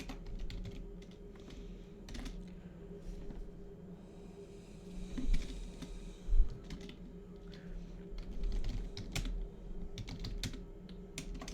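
Steady typing of code on a computer keyboard, a continuous patter of close key clicks with occasional louder thumps, heard alone with no voices.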